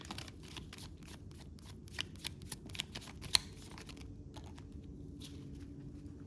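A deck of oracle cards is shuffled quietly and close up, with a quick run of soft flicking riffles and a few sharper snaps. No one talks.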